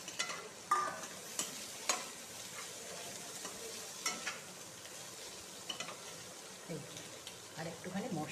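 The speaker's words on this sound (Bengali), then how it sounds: "এর মধ্যে মাছটা আবার দিয়ে একটু নাড়িয়ে দিই।" Fish stirred into golden fried onions in a pan, a soft sizzle under intermittent scraping and stirring clinks, with a voice talking over it.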